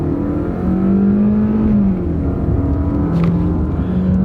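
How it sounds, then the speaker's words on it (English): A used car's engine strains and revs at higher RPM as the driver steps on the gas during a test drive, a steady loud drone with rising and falling pitch and no talking. "We'll step on the gas. Not a race car, but we're going to strain it."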